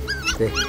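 A dog gives a quick run of short yips and whimpering barks, close and fairly loud, all within under a second.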